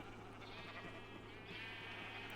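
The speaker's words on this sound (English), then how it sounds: "we now have every color of sheep" Sheep bleating in the video game Minecraft, a soft, steady bleat under a constant background hum, fairly quiet and continuous with no talking.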